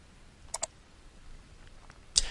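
A computer mouse gives a quick double-click of two sharp, close ticks, then a single louder click follows about a second and a half later, all against quiet room tone.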